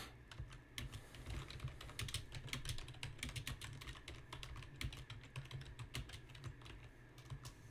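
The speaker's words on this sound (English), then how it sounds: "I'm just typing in Discord." Rapid, continuous typing on a computer keyboard, faint and close, with dense irregular key clicks and a low steady hum underneath, no voices.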